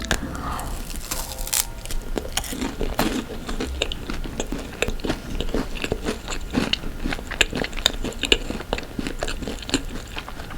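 Close-up, loud crunching as a layered palmier pastry is bitten and chewed, with crackly snaps throughout.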